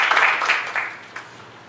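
At a teaching forum at Taichung University of Science and Technology, an audience briefly applauds to welcome a teacher; the scattered clapping bursts early and fades within under two seconds.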